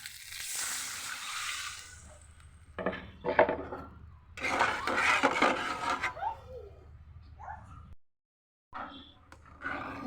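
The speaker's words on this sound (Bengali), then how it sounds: "এখন এর মধ্যে আমি পরিমাণ মতো পানি দিয়ে দিব" Water hits fried masala in a pan while cooking hilsa fish with pointed gourd, giving bursts of hissing sizzle with some clattering, close up, broken by a brief silent gap.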